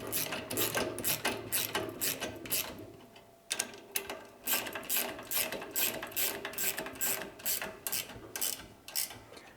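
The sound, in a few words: ratcheting wrench tightening bolts on onion bulb planter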